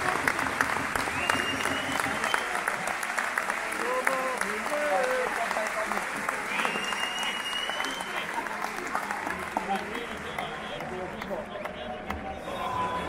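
A football crowd at Bruges applauds and cheers as Thomas Meunier leaves the pitch: a continuous wash of distant clapping and crowd roar under a commentator's voice.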